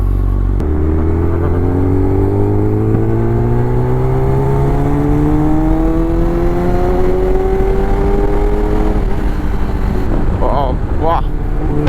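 Kawasaki ZX10R motorcycle with stock exhaust revving up loud and close, its engine pitch climbing steadily across a long pull, then breaking into sharper bursts near the end.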